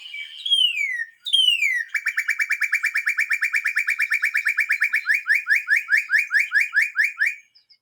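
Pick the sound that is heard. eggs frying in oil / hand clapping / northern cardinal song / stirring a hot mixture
northern cardinal song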